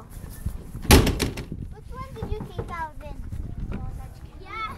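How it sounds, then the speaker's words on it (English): Knocking on a door: one sharp, loud rap followed by a few quicker, lighter knocks, with children's voices chattering and playing around it. "Why would you knock on the door?"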